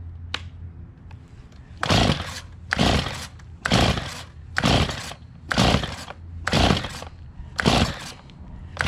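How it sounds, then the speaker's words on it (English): A Stihl MS 290 chainsaw with a carburetor problem is pull-started on full choke: about eight rhythmic, close rasping pulls of the starter cord, spaced roughly a second apart, with no sign of the engine catching. "First thing you do on these Stihls, go all the way down and you give them like 2 pulls."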